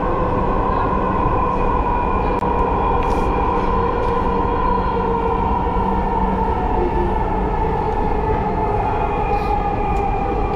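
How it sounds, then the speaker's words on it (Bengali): A metro train runs along its rails, heard from inside the carriage as a loud, steady rumble and hum that continues without a break throughout. "Metro train."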